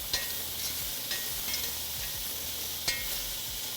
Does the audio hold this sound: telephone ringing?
no